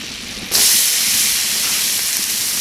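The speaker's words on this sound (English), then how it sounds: "Into the butter, you want to add in your onions" Onions and celery hitting hot melted butter in a pot over an outdoor fire bowl, a sudden loud hissing sizzle bursting in after a quieter half second and holding steady, close and dense.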